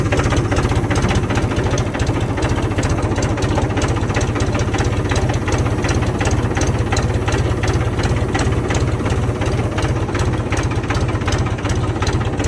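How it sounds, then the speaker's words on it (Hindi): A tractor engine chugs steadily while driving slowly along a sugarcane field road, a loud, close, continuous knocking diesel drone with a fast even pulse and no pauses. "तो अब ट्रैक्टर को लेके चल रहा हूँ आगे।"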